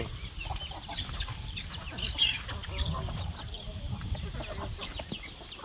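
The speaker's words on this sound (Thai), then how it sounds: "ไก่น้อย" Chickens clucking on a rural farm with ducks and cows nearby, soft scattered clucks and rustling at moderate distance, with a faint background murmur.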